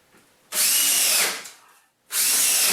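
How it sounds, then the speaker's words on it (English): A power drill drives screws into an overhead camera boom mount in two loud, close bursts, with a short winding-down whir and a brief quiet gap between them. "Put the rest of the screws in."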